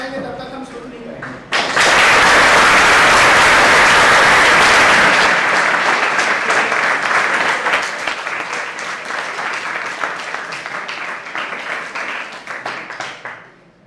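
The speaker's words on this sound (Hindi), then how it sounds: "तो जब तक ताली नहीं बजाएंगे तब तक हम शुरू नहीं करेंगे।" A theatre audience breaks into loud, dense applause after a brief spoken prompt, sustaining a thick wash of clapping for about ten seconds before slowly thinning and tapering off.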